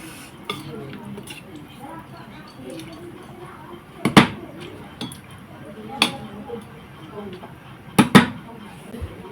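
A spoon scrapes and clinks against a pressure cooker while chicken pulao rice is stirred gently, with soft rustling and a few sharp metallic knocks, under a voice speaking.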